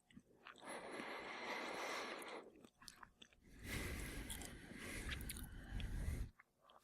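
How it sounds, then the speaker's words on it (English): An almond is chewed close to the microphone in two long stretches of crunchy, wet mastication separated by a short pause, quiet and intimate with no talking. "Now I'm chewing on an almond."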